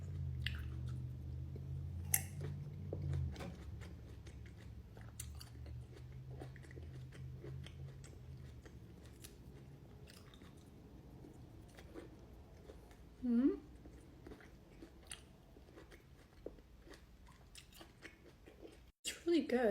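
Someone chews large Shine Muscat grapes up close: soft wet bites, squishes and smacking mouth sounds come in an irregular rhythm, quiet and near, with a low hum early on and no talking.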